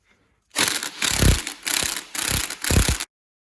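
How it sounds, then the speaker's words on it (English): An impact wrench with an 18mm socket loosens the camber plate nuts on a Gen 6 Camaro, in five loud, close bursts of rattling hammering separated by brief pauses, no talking. "here's where we'll put our 18mm socket on with the impact."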